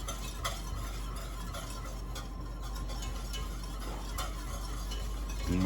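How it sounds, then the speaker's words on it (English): A whisk stirs flour into a pan for a chicken spaghetti sauce, giving a steady close scraping and swishing with faint sizzling underneath and a few light metallic clinks, no voices. "I'm gonna be using a whisk"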